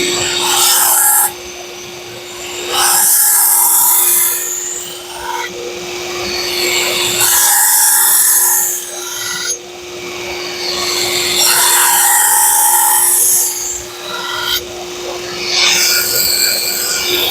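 A grinder reprofiles the edge of a Shun Classic chef knife, giving loud bursts of abrasive grinding that start and stop repeatedly over a constant motor whine, close and alone.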